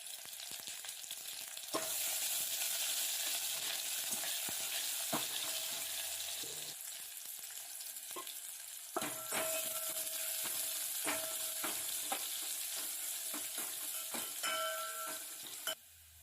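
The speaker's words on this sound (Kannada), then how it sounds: "ಒಗ್ಗರಣೆಗೆ ಸಾಸಿವೆ ಹಾಕೋತಿದ್ದೀನಿ" Oil sizzles steadily as mustard seeds, onion and curry leaves fry in a pan for tempering sambar, with occasional sharp pops and stirring clatters, close and continuous with no talking.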